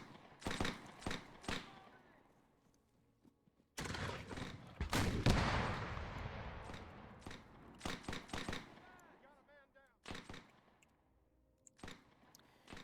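War of 1812 battle in Arma 3 with musket gunfire and cannon: sharp scattered shots and rapid volleys, one heavy booming blast with a long rumbling tail, moderately distant and faint.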